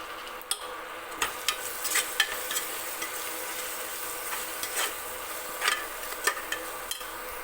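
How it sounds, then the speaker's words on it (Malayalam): Biryani masala and green chillies fry in a pan for chicken biryani, giving a steady soft sizzle broken by sharp scraping clicks as a spoon stirs them. No one speaks. "ഇനി നമുക്കിത് നന്നായിട്ട് പച്ചമുളക് മാറുന്നത് വരെ മൂപ്പിച്ചൊന്ന് കൊടുക്കാം"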